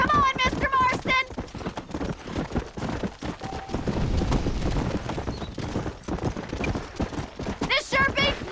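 Horses gallop in the Red Dead Redemption video game, a steady clip-clop of hooves running close and loud beneath shouted speech, with a horse's whinny rising at the start and again at the end.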